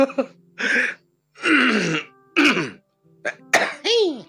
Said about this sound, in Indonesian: Itu batuk penyanyi profesional ya